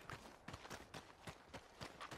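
Horse hooves clip-clop in Red Dead Redemption 2 in an even, steady walking rhythm of about a dozen soft thuds. They sound faint and slightly distant, with no talk over them.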